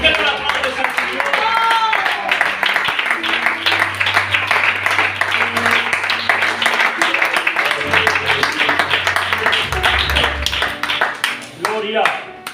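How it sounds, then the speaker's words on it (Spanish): A church congregation claps together in a sustained burst of applause during a Spanish-language sermon, dense and loud, with voices calling out over the clapping before it fades near the end. "¿Por qué no la aplaudes al Señor?"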